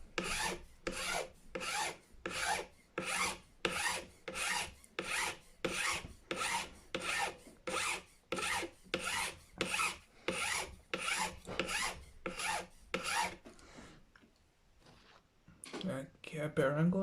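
A metal file shapes a nut slot on a Gibson Les Paul guitar, giving about twenty even, rhythmic rasping strokes close up before a short pause, then a voice talks at the end.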